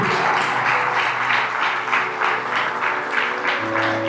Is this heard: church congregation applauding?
yes